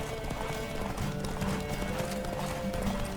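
Horse hooves cantering during a horse race in Witcher 3: Wild Hunt, a steady rhythmic clip-clop of galloping footfalls, close and continuous, layered over game music and ambient sound.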